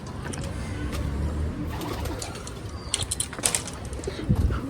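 Pigeons coo close by in a low, continuous murmur, with a few scattered clicks and brief flutters toward the end.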